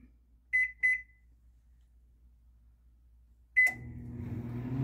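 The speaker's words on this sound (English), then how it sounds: "It's in my microwave." Two short beeps from a microwave oven's keypad, a pause, then a third beep as the oven starts. It settles into a steady hum while heating a bag of popcorn for caramel corn.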